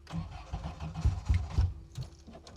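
A classic rally car engine cranks over in a few low, uneven bursts, struggling to catch, fairly faint and close.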